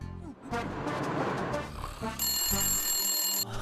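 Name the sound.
telephone ringing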